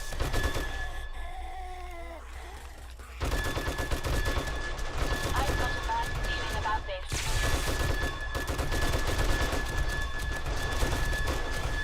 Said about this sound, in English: Just sinking a bunch of bullets right into zombies.